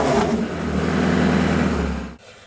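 Porsche 918 Spyder hybrid supercar with its combustion engine running: a loud, steady low engine drone holds close for about two seconds, then cuts off abruptly.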